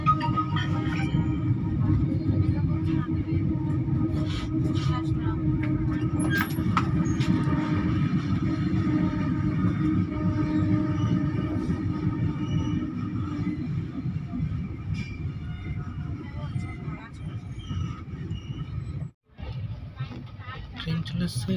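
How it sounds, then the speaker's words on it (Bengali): The 13181 Kaziranga Express pulls into Rampurhat station with a steady, close, low rumble of wheels and carriages that runs throughout, dipping briefly near the end. "ট্রেন এখন প্রবেশ করছে রামপুরহাট স্টেশন, আর এই রামপুরহাট স্টেশন থেকেই যাওয়া যায় তারাপীঠ মন্দিরে।"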